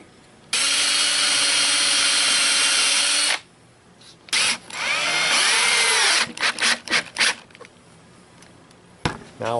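A cordless power drill drives screws into a wooden log slab bench, one long steady whir followed by shorter stuttering bursts and trigger pulses as each screw seats, close and loud.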